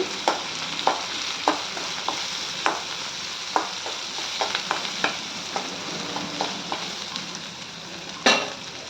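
Thin green chillies fried in a pan, a soft continuous sizzle punctuated by regular spatula scrapes and taps, ending with a louder clatter.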